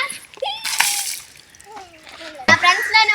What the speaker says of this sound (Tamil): இப்ப பிரியாம நான் தண்ணி ஊத்துறேன் வாங்க